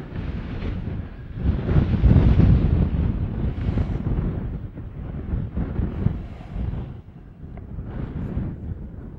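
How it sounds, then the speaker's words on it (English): Strong wind buffets the microphone outdoors on a hike, making heavy, uneven low rumbling gusts that swell and ease over several seconds, with no talking. "Hear that wind."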